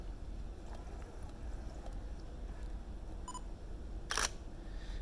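A single crisp Nikon D3400 camera shutter click near the end, heard close over a quiet background hiss, preceded by a faint short beep.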